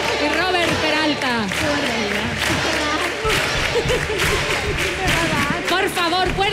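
Audience applause and cheering for musicians at a televised talent show, with dense, sustained clapping and crowd noise running loud throughout, mixed with shouting voices.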